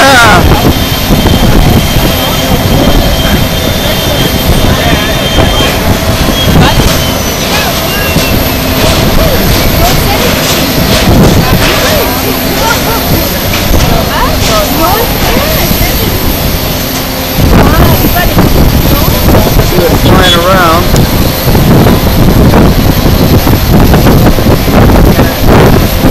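Space Shuttle Endeavour, escorted by military jets, roars past an airport ramp during a crowded flyby event. A loud, continuous jet rumble is heavily buffeted by wind noise, and excited voices talk over it.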